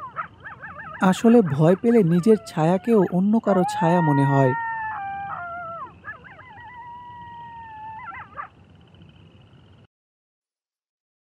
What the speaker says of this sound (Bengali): দূর থেকে কিছু শিয়াল আর কুকুরের ডাক শোনা যাচ্ছে।